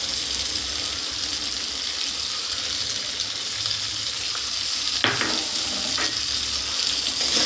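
Greens sizzling steadily as mustard paste is stirred into the frying pan, a dense continuous hiss with a couple of sharper scraping strokes from the spatula.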